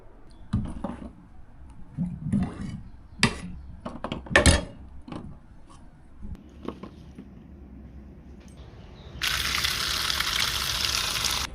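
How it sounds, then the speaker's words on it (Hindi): Figs being rinsed in cold water, with splashing, knocks and handling clatter, ending in a loud steady rush of running water over the last couple of seconds. "गर्म पानी से निकाल के ले जाके जी ठंडे पानी में अच्छी तरह धो के लाती हूँ"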